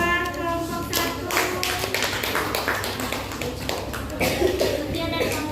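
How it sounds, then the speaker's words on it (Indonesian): A class claps for a student group after its presentation, a steady patter of many hands running throughout with voices talking over it. "tepuk tangan buat kelompok 1"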